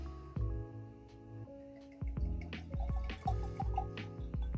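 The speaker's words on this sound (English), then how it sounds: "Pour myself a beautiful, healthy dram." Single cask whisky from Macaloney's Island Distillery, The Peat Project, is poured into a glass, making close, quiet glugging and dripping liquid sounds in several short bursts.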